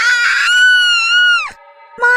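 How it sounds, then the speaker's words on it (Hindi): A witch in a horror story lets out a long, loud shriek with a strained tone that holds steady for more than a second. It then drops off sharply, falls briefly silent and starts up again at the end. "अचानक वो चीख पड़ती है"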